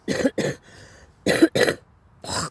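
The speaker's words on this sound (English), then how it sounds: "I apologize for these interruptions of burping and coughing" Someone who has been badly sick coughs in two bursts of two harsh, close coughs each, separated by a quiet pause, with a short throat-clearing trail after.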